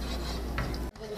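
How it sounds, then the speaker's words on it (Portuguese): Spoon scraping and stirring a thickening sweet milk mixture in a pan on the stove, a steady close rubbing and clinking against the pan with a brief pause near the end. "E agora você vai mexendo até ele desgrudar da panela."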